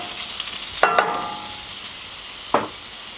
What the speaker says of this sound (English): The 5 minutes are up and the shallots have gotten some color, so we're going to add in the apples